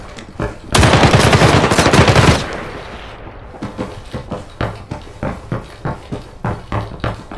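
Rapid automatic gunfire in the shooter game Arena Breakout: Infinite, one loud sustained burst followed by a string of evenly spaced single shots, heard alone.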